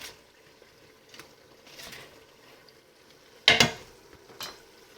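Fried vegetables stirred into a tomato sauce in a pan for ratatouille, giving soft scraping and gentle sizzling with one sharp clatter of the spoon against the pan near the end, close and fairly quiet.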